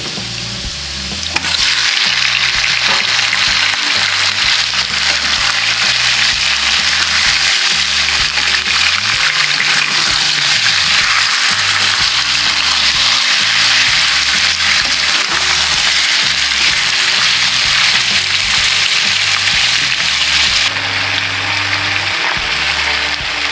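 Chicken dropped into a pan of browned onions and garlic, a loud, continuous sizzle and crackle of frying that runs throughout, close up and without speech.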